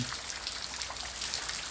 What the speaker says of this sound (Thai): วันนี้ฝนตกเป็นวันที่สี่แล้ว ยังไม่มีทีท่าว่าจะหยุดตกนะครับ